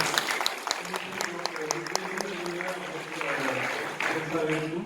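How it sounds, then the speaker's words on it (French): Audience applause at the opening of a conference in Bourges welcomes Emmanuel Ruche, a moderate crowd clapping with distinct sharp claps near the front and a murmur of voices underneath. "vous pouvez l'applaudir"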